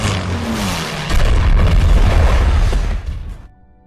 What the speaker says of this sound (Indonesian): Pasukan dari Royal Air Force menembakinya dari udara.